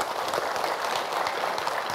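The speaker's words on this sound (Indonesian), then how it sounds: "Tepuk tangan untuk Pak Ustadz Zaki Mirza." Audience applause at a morning Islamic sermon gathering, welcoming a religious teacher; steady, dense clapping throughout, moderately loud with no voices.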